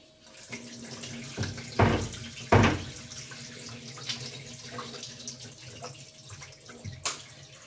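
Tap water runs steadily into a pot while rice is washed by hand, with two louder splashes and gushes near the start and faint clinks of the pot throughout, close and alone without talk.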